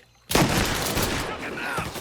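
Gunfire in the Mafia Definitive Edition video game erupts abruptly after a brief quiet moment and continues as a dense, loud burst of shots and clatter, with voices shouting over it.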